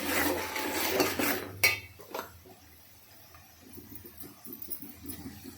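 Turmeric being stirred into a mixture for a flattened-rice (atukulu/poha) dish, with a loud scraping and clattering of a spoon against a pan at first, then softer intermittent scraping strokes close by.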